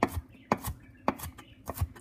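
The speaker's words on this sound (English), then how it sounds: "First, just roughly chop it." A knife roughly chopping garlic on a cutting board, four sharp, evenly spaced thuds roughly half a second apart, close and fairly loud with no talking.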